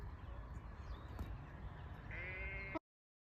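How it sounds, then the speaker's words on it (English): A sheep bleats from close by at a rural site where polytunnel foundations are being dug, a steady harmonic call rising toward the end, over a low rumble of outdoor background noise. "Sheep, sheep. Hello, sheep."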